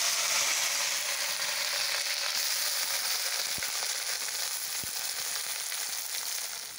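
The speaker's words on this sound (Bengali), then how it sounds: "কেটে রাখা সবজিগুলো আমি তেলের মধ্যে দিয়ে দেবো।" Chopped vegetables for veg dal hitting hot oil tempered with dried red chillies and panch phoron, a steady hissing sizzle with occasional sharp crackles and pops, continuous and fairly close, fading slightly toward the end.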